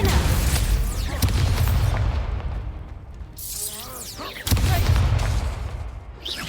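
Incendio fire spell blasts in Hogwarts Legacy during a dueling fight, loud booming fire bursts and whooshes layered with other spell impacts, several sharp hits spread across a busy, dense mix.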